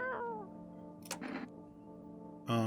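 A house cat meows a few times nearby, short clear calls with a louder one at the end, and no talking over them.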